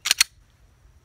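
Two quick, crisp metallic clicks in rapid succession from a pistol trigger pulled during dry-fire practice with an empty gun, close and distinct against near silence.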